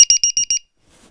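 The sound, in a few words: low battery voltage warning buzzer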